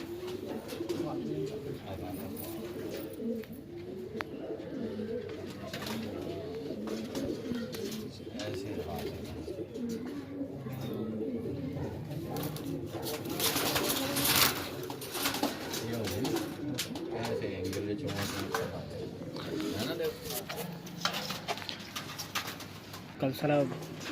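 Madrasi pigeons with white eyes coo in a steady, overlapping chorus throughout, soft and close, with rustling and occasional sharper noises mixed in, and faint voices at times underneath.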